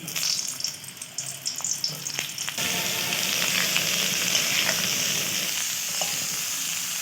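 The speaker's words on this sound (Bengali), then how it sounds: "এই তেলের মধ্যে আমি এঁচড়গুলো ভেজে তুলে নেব" Jackfruit pieces frying in hot oil in a wok, starting with bubbling and light stirring, then turning into a dense, continuous, close sizzle.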